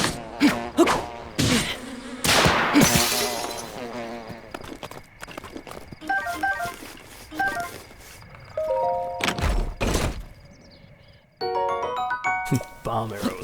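Buzzing bees in Zelda: Breath of the Wild, a busy insect drone under game music jingles, hoofbeat-like clops and scattered effects, with a voice talking over parts of it.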